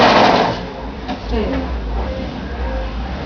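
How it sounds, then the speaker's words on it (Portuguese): Sewing machine stitching fabric at home, its low motor hum running steadily after people talk over the start. "Tô filmando você costurar."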